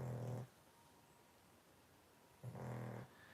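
A pet snoring during a casual conversation, two slow, rasping snores with a long quiet breath between them, close by and soft.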